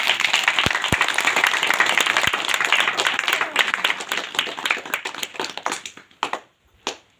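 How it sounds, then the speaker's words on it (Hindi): Congregation clapping at a church service, a brisk burst of many hands that thins out toward the end into a few scattered last claps, with a couple of sharp taps near the start. "तो चलो एक बार ताली हो जाए प्रभु"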